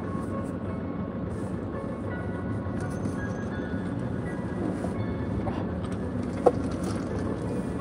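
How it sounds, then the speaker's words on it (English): Steady broadband rumble of traffic and rolling wheels beside the Daegu monorail, heard from a car on a main road; a continuous wash with a faint click near the end and no talk. "Now we're next to the monorail in Daegu."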